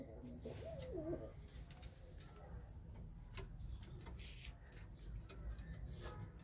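Faint cooing rises from racing pigeons kept for flying contests, soft and a little distant, under steady background noise, intermittent ticking clicks and low voices.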